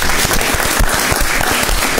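Loud, dense applause from a studio audience on a live television midday show, a continuous wash of many hands clapping at once, with no break.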